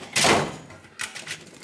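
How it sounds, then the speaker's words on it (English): A drawer is pushed shut, giving a single firm wooden thunk followed by a couple of lighter knocks as it settles. "Get that drawer closed."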